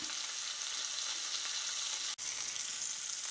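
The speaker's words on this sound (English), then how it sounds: "I'm going to flip the pork chop, and we're going to sear that fat cap." The fat cap of a bone-in pork chop sears in a cast iron skillet with a loud, dense, continuous sizzle that cuts out for an instant partway through.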